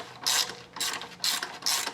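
Ratchet clicking in four quick bursts while loosening a pulley bolt on a 1987 Toyota Camry during timing belt work, each burst a crisp run of close metallic pawl clicks with brief pauses between.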